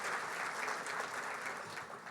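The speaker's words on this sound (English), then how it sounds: "So one more round of applause for them." An audience at a breakfast event applauds with dense, steady clapping that fills the whole short stretch at an even level.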